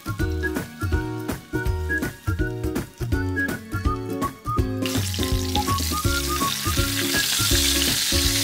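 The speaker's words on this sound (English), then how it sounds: "Fry well the milkfish, then set it aside." Oil sizzles steadily with milkfish frying in it over background music; the frying hiss grows louder and fills the second half.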